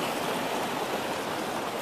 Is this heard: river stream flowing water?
yes